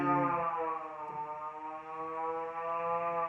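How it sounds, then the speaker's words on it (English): A toy fire truck siren wails steadily at close range, a buzzy electronic tone with stacked harmonics holding a wavering pitch for the whole stretch, with a brief click partway through. "All I care about is that the siren does work"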